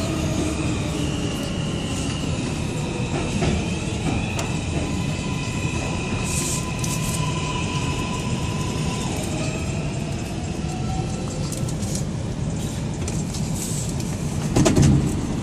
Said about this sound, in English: This is a Bowling Green bound 5 express train.